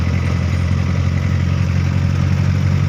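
The small engine of a Thai e-taen farm vehicle drones steadily, loud and close, with a rough low rumble and no pauses.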